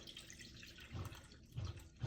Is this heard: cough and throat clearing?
no